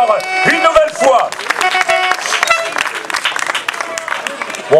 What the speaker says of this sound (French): On peut l'applaudir très très fort encore, une nouvelle fois